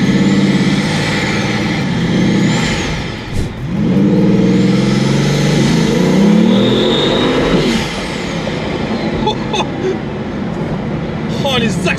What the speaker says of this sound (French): les accélérations comme ça à l'arrêt, c'est incroyable